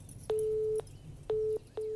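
A telephone busy signal: a steady electronic tone beeping in short repeated bursts with gaps between them, clear and close over a faint low hum.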